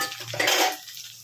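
Potatoes tipped into a pan of onions and green chilies for potol alu bhaja, a short clatter of pieces landing against metal with a brief stir, close and fairly soft, no talking.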